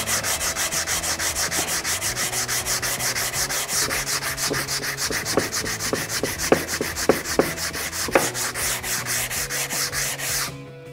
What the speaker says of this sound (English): I'm gonna sand it like full length, like that, and like that